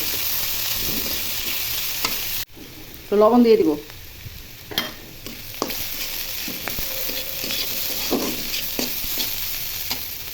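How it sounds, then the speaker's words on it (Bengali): Boiled potatoes and onions fry in a pan with a steady hiss and repeated stirring scrapes; a brief spoken remark comes in partway through. "সিদ্ধ করা আলু এখন দিয়ে দিব দিয়ে এখন পেঁয়াজের সাথে ভালো ভাজা করব"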